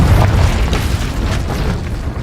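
A Confringo fire-blast spell explodes in the game Hogwarts Legacy with a loud, deep boom, then dies into a heavy, rumbling low roar over the next two seconds.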